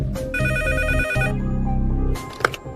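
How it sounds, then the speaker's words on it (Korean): A telephone rings loudly in a quiet school staff office, with a bright electronic ringtone of repeating chimes that stops and then gives way to a short burst of noise. "가장 먼저 연락이 온 것은 8시 30분에서 40분 사이로 기억합니다. 학부모로부터 전화가 왔습니다."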